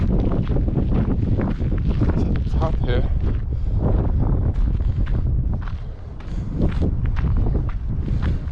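Strong wind at the rocky hilltop of Twin Peaks in San Francisco buffets the microphone in a loud, continuous roar, with footsteps and a voice underneath.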